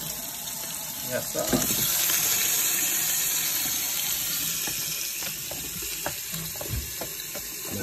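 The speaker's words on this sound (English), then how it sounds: "Added some bleach to my dishwater so I can clean my sink as well." A tap pours steadily into a kitchen sink filling with dishwater and bleach, a broad hissing splash with small clinks and sloshes through it and a brief spoken reply.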